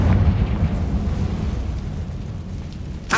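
A Confringo blasting-spell explosion in the Hogwarts Legacy video game, a deep, loud rumbling boom that fades slowly before a short, sharp burst at the end.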